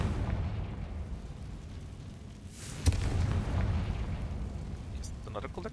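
A fiery Confringo explosion spell cast in the video game Hogwarts Legacy bursts once near mid-clip, a sharp blast standing out over a steady bed of game ambience.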